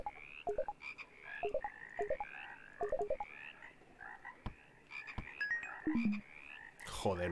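Repeated deep, warbling frog croaks from a video game in short bursts over a busy, buzzing ambience, fairly faint and without any voices.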